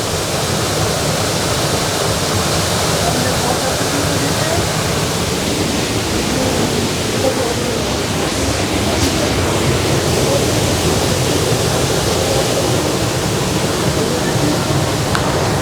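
A waterfall in Antalya pours in a loud, steady broadband roar of rushing water that fills the whole stretch, close and unbroken throughout.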